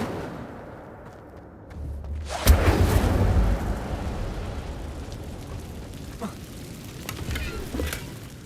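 An Incendio fire spell cast in Hogwarts Legacy: a sudden sharp whoosh and booming burst after a quiet start, followed by a lingering crackling, rumbling roar of flames that slowly settles, with faint later pops.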